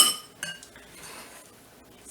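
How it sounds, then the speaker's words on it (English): A big spoon stirring blueberry butter cake batter in a bowl, with a sharp clink at the start, then soft, close scraping and a light knock before fading. "Just stir it up and get it incorporated."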